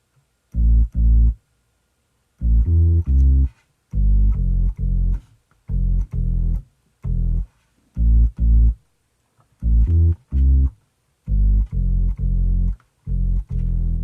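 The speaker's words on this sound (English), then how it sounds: "Came up with a bass line that sounds something like this." A deep sampled bass line on an Akai MPC Live plays short, punchy notes in a bouncing, syncopated pattern, with brief silences between phrases.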